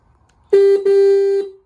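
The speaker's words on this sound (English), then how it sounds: "That is a sorry sounding horn." A thin, nasal electric horn on a street-legal Yamaha WR450 dirt bike honks twice, a brief toot then a longer held blast, loud and close.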